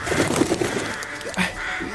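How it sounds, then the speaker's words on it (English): Birds set loose in a studio coo softly in short repeated notes under a steady background hum, with a brief louder flutter midway. "Release the birds!"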